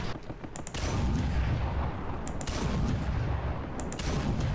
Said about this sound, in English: We got a lot of anti-aircraft fire going on that.